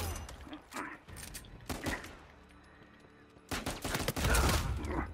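Gunfire in an Uncharted 4 ranked multiplayer King of the Hill match comes in several loud, sharp bursts separated by short gaps, with a quieter stretch before a heavy final volley.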